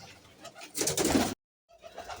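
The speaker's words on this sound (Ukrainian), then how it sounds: "голуби собі ось сюдою вилітають, їм вистачає, залітають" Birds cooing nearby, a soft burst of pigeon calls that cuts off abruptly into silence before quieter rustling and cooing resume.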